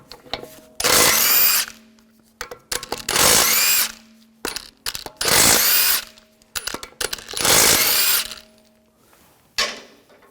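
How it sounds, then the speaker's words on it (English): Power tool with a 17mm socket spinning off lug bolts from a 2004-2009 Audi A4 Quattro wheel, four loud close bursts of whirring with clicks and clinks of bolts between them, then a short final burst. "Using a 17mm socket, take the lug bolts off."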